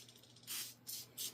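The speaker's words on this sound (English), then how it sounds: "Found my Lysol, which I should probably just spray around" Lysol disinfectant spray hisses from a can in three short bursts, faint and close in a quiet bedroom.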